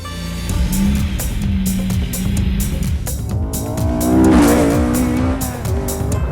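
An Ariel Atom Mugen with a 2-litre Honda engine drives on public roads, its engine note rising and falling through gear changes, loud and close with a brief tyre squeal, no talk.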